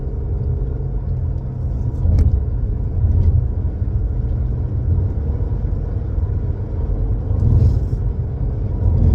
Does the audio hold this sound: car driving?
yes